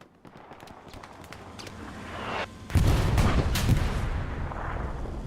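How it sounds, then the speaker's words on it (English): Panzer IV tank cannon firing in Hell Let Loose from a little way down the road: one sudden heavy boom cuts through quieter gunfire and battle noise, then rumbles on afterward. "Panzer IV takes a shot from down the road a little bit."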